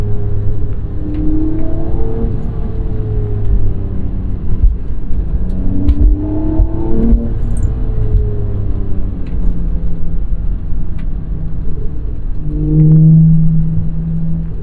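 A 1991 Acura NSX mid-engine sports car heard from inside the cabin in binaural recording, a steady loud engine drone with several rising rev sweeps as it accelerates and shifts, continuous road rumble underneath, no talking.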